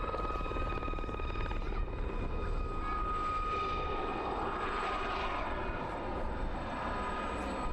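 Gazelle test helicopter from Boscombe Down, fitted with a nose probe, flying at the Parco Victory Festival air display; steady rotor and engine drone holds throughout, fairly distant and even, with no voices.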